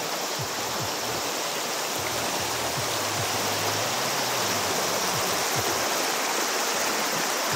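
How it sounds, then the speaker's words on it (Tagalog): Steady rushing roar of a waterfall pouring into a flowing stream, loud and continuous without pause, with faint low rumbles underneath. "Tingnan niyo yung fall ng tubig. Oh, ano siya, tuloy-tuloy yung agos niya."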